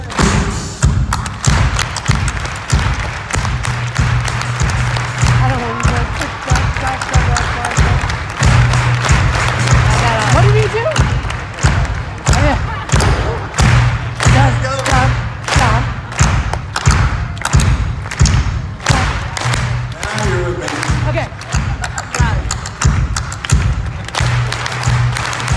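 Live concert audience clapping along in unison, sharp rhythmic claps repeating steadily at a regular beat throughout, with a singing voice faintly running beneath the crowd.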